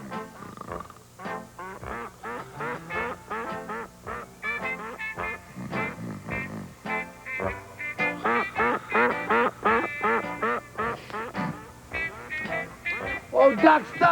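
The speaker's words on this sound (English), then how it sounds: "Oh, ducks!" Ducks quacking near a hunting blind, a long run of loud rapid quacks that thicken into a dense chorus, with a voice talking among them.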